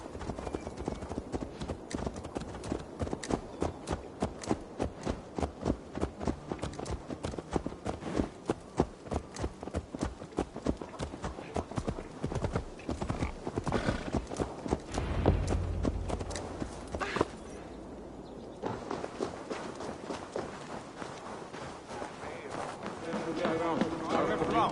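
Horse hooves in Assassin's Creed Valhalla clip-clop in a steady running rhythm, close and loud, then slow and fade, with an occasional whinny and in-game voices talking over the hoofbeats.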